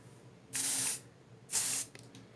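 Two short, bright hissing sprays of perfume, each lasting about half a second, separated by a brief quiet pause in an otherwise still room.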